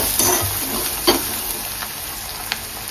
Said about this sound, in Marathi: तिखट सुद्धा टाकून घेते, घरातला घरगुती मसाला ते सुद्धा व्यवस्थित परतून घेते।